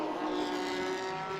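GT Racing Cupra race car in a Belcar NASCAR-style race, a sustained high engine whine with a steady pitch, heard at a distance without talk.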